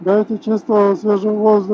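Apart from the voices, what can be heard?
No everyday noise stands out behind the speech.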